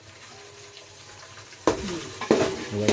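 Bagara rice mixture being stirred in a pot with a spoon, soft scraping and sizzling that becomes louder with a couple of sharper clanks toward the end.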